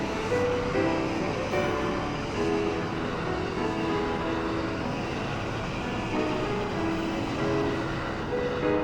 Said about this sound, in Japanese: 内房線がやってきました。